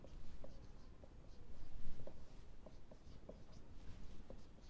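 Pen writing an accounting journal entry for a bills of exchange problem, a steady soft scratching with short strokes across several seconds, close and fairly quiet against a light background hiss.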